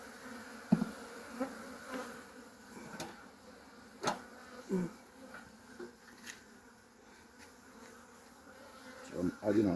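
Honey bees buzz softly and continuously around an opened hive during a beekeeping inspection in Nigeria, with scattered close clicks and taps of hive frames and handling over the faint hum.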